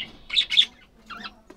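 A budgerigar gives a few sharp, high squawks and chirps at close range, two quick bursts followed by a warbling call, with no talking.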